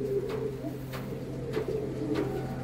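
Imported fancy pigeons on a pigeon farm coo in a steady series of low, throaty rolling calls at roughly regular intervals, close and clear over a constant electrical hum.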